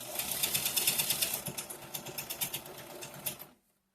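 A sewing machine stitching a shirt seam runs in a fast, steady, close mechanical whir and clatter for about three and a half seconds, then stops abruptly into quiet, with no talking.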